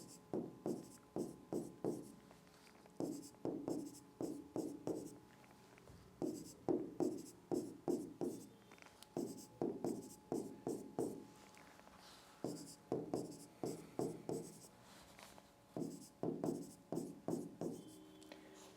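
A pen writes numbers by hand on paper, producing bursts of short scratchy strokes in quick rhythmic groups with brief pauses between them, close and quiet, with no talk.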